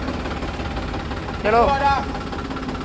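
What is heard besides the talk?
5104 tractor engine running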